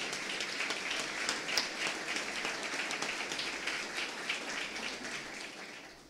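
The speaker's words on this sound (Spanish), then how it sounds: "un fuerte aplauso nuevamente para ellos" Warm applause from a municipal council session audience in Florencio Varela for local municipal performers, a steady crowd clapping at moderate distance that fades out at the end, with no speech over it.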